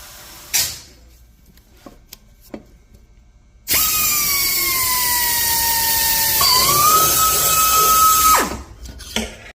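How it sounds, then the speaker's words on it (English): Power reamer whining steadily through a crack in a Vortec cylinder head, a loud sustained tonal drone lasting several seconds that drops slightly in pitch midway and then cuts off, with faint clicks and handling noise before and after. "Okay, I'm going to start out with reaming it."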